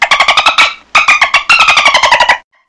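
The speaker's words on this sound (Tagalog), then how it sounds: "Tama, ito ay tunog ng dolphin." Dolphin calls in two rapid bursts of clicking, chirping whistles, each a fast train of sharp pulses with a high, bright tone, separated by a short pause and close and loud throughout.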